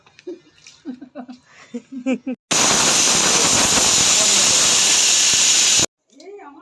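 Talk, then a sudden loud burst of hissing steam from a pressure cooker that blasts for about three seconds and cuts off abruptly.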